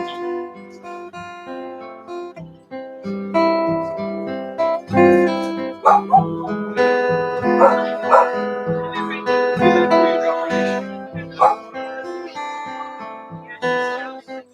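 A dog on a leash barks and yips repeatedly in loud, close, rapid bursts, with whimpering bits, over a continuous harmonic background and occasional people talking.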